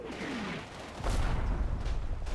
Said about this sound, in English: the Italian mortar barrage hits